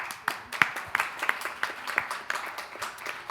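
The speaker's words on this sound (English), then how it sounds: "please welcome him with a warm round of applause." A modest conference audience gives a round of applause, scattered individual claps standing out over a softer steady patter, fairly faint and lasting a few seconds.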